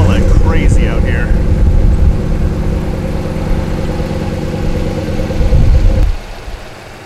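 A Jasper-built 5.7 Hemi V8 in a Ram truck runs loudly for about six seconds outdoors in strong wind, with a deep steady rumble that cuts off sharply near the end, and a voice speaks over it.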